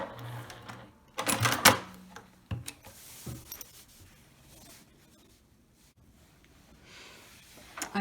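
Short bursts from a sewing machine back stitching a travel shoe bag, with a louder whirring run early on and a few quick stitches and clicks after, separated by quiet gaps.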